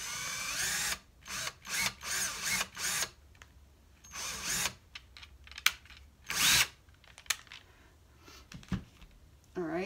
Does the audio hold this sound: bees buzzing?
no